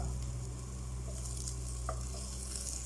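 Onion and crushed ginger sauté in a pan, giving a dense, even hiss of frying over a low hum, with one faint tap of a utensil, nearby and steady, no voices.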